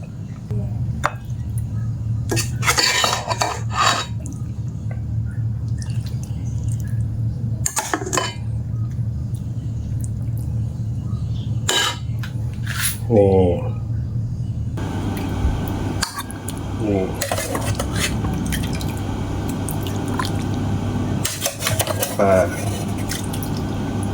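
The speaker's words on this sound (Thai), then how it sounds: "ตักใส่จานครับ" Spoon scraping and clinking as Isan-style carp larb is scooped onto a plate, with scattered taps and wet drips over a steady low kitchen hum and a voice now and then.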